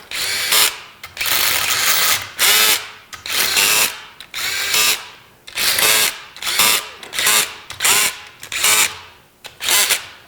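A power tool runs down bolts on a 350 engine during final assembly. It fires about ten short, loud whirring bursts in a steady stop-start rhythm, close up, with no voices.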